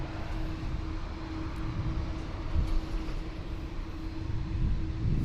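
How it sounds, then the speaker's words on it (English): Dash 8 turboprop arriving at Toronto airport, a steady distant engine drone with a faint sustained tone that swells slightly toward the end, heard alone with no voices. "A Dash 8 coming in from Timmins."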